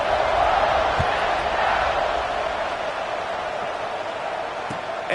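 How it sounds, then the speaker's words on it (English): A college football stadium crowd buzzes in a steady, loud roar after a score in a Michigan game, holding on for several seconds with a couple of faint thumps. "this crowd is buzzing after that last score"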